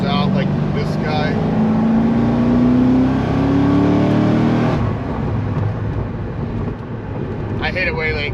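A car with an LS7 V8 engine, rebuilt after a dropped valve, accelerating hard in third gear, a loud rising engine roar from inside the cabin that eases off partway through, with a voice heard over it.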